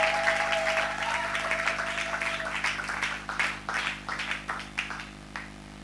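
A church congregation applauds together in praise of the Lord, a dense, steady wash of many hands clapping close by that gradually thins into scattered, fading claps.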